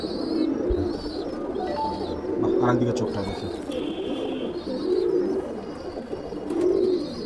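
Madrasi pigeons coo in repeated low, rolling phrases, close by, while someone talks over them throughout.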